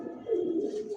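A pigeon coos once at a pigeon farm, a soft, low, rolling call close by, steady for about a second with no other sounds around it.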